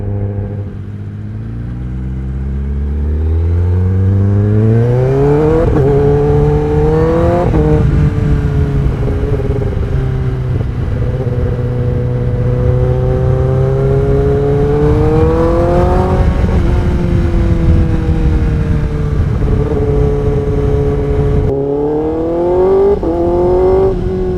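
A Kawasaki ZX10R motorcycle fitted with a Leo Vince exhaust, loud and close, rising through the gears with repeated climbing engine howls and brief dips between shifts, sustained the whole time.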